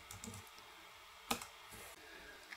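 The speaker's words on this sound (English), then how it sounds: "We'll do that by clicking on the start button and then just type the word device manager." Keys on a computer keyboard are tapped a few times, with one sharp, close click standing out above a quiet room.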